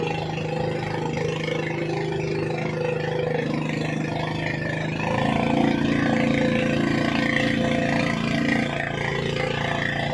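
A single boat engine idles steadily close by, a low continuous hum with a slight shift in pitch midway, running alone without talk.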